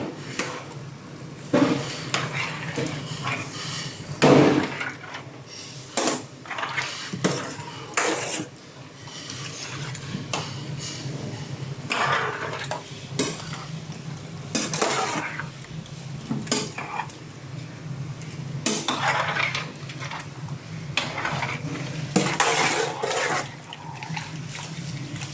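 Chicken pieces stirred in a cooking pot for butter chicken gravy, with intermittent scraping and clinking of a utensil against the pot and soft wet sloshing in a quiet kitchen.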